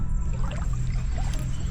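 Rain falling over knee-deep floodwater in Kampung Sampun, Kota Samarahan, Sarawak, a steady wash of water with a heavy low rumble, continuous and close, no voices.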